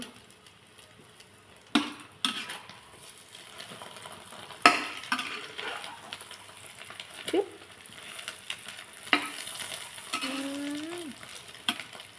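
Beaten egg fries in hot oil for a crispy omelette. A soft, steady sizzle sits under sharp utensil clinks and scrapes against the pan, all fairly quiet and close.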